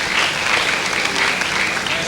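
Crowd applause at an outdoor tribal heritage day celebration in Andaman, cheering on the runner-up football team; dense continuous clapping, loud and even throughout.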